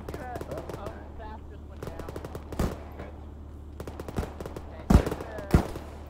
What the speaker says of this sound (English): They're fucking shooting at us.